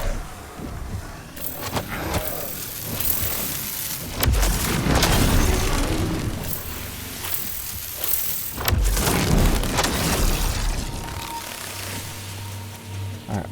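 Explosions in the survival game Nightingale: repeated heavy booms and broad blasts over a dense rumbling background, with two especially strong bursts and a low engine-like hum toward the end.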